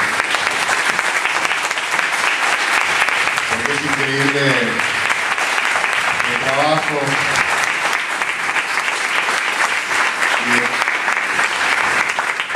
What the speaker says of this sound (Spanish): un gran aplauso